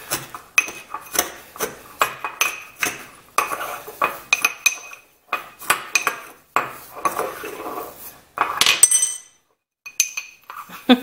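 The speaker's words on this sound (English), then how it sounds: "take the back of my measuring spoon and crush my garlic a little bit" The back of a metal measuring spoon crushing garlic for a seasoning mix, a series of close, sharp clinks and scrapes in an uneven rhythm with short pauses, no talking.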